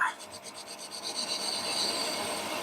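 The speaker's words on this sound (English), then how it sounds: "Switch out to my chamfer tool, which is just here. And let's dob a chamfer on it." A hand chamfer tool scrapes along the edge of a metal part for a handmade custom Buell rigid chopper motorcycle, giving a steady, close rasping rub that runs continuously and keeps going at the end.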